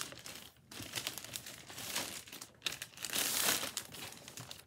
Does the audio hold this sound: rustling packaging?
yes